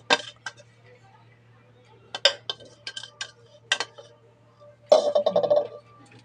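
Dishes and cutlery clink in a home kitchen as coarse dry Marathi chutney is moved onto a plate, a few scattered sharp taps and scrapes with a louder clatter near the end, heard close against a quiet background.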